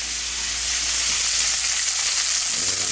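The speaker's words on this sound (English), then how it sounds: "Let that simmer for about 3-4 minutes." Mahi mahi fillets simmering in a pan, giving a steady, loud, continuous sizzle and hiss throughout with no pause, with no voices over it.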